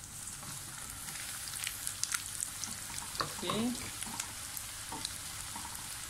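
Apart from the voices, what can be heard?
tempeh frying in a pan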